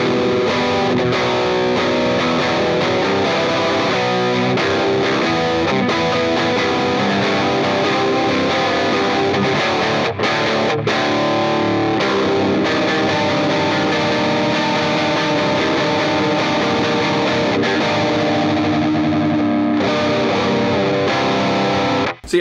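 Heavily distorted electric guitar through stacked overdrive pedals including a TS9 Tube Screamer, thick, saturated overdrive, playing loud sustained chords and riffs continuously, no voices.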